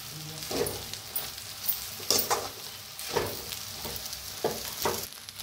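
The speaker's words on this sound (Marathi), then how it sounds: "आता छान ह्याला बी मिक्स करायचं।" Sabudana khichdi with crushed peanuts and chilli is stirred in a pan, soft sizzling under a series of scraping strokes at about one per second, with a sharp clink of the spoon partway through.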